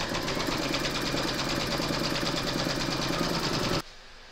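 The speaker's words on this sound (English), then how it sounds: "Pop your hoop back into your machine and stitch round number two to secure it." An embroidery machine runs steadily, stitching a second round to hold batting onto a fabric coaster in a hoop. The buzzing, rapid needle chatter is close and constant for nearly four seconds, then cuts off abruptly.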